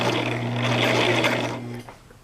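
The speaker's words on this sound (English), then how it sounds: "So this is stay stitching on the inner marking to hold the fabric together" A Brother LX 3817 sewing machine stay stitches thick fabric with a steady, close whirring hum that runs for nearly two seconds, then stops abruptly.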